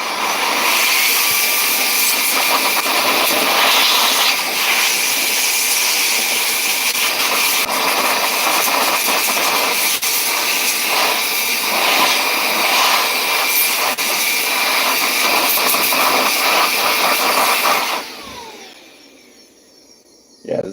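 An air blower cleans out a fast RC motor with a loud, continuous roaring hiss of rushing air. It holds close and steady for about eighteen seconds, then cuts off abruptly into near silence.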